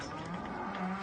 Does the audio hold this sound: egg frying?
no